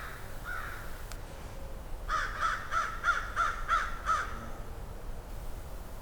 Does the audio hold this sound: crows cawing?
yes